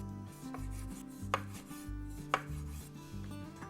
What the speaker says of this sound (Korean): 이제 방울토마토 4개를요 반씩 잘라줄게요.